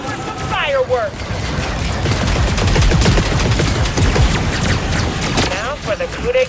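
Sustained rapid minigun fire from the Sentinel in the Star Wars Hunters video game, a loud continuous volley of gunshots lasting several seconds between short bursts of synthetic whirring effects.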